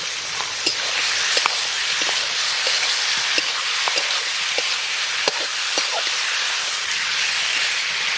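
Country chicken pieces sizzling in hot oil with cumin, green chilli and bay leaf, a steady close hiss of frying throughout with scattered small pops and spatter.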